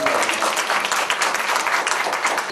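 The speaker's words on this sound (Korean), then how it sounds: "모든 분들한테 한번 그냥 인사 한번 해주시고 박수 한번 해주시고" An audience at a Korean talk concert claps and applauds for local village activists, a steady, dense round of clapping filling the room throughout.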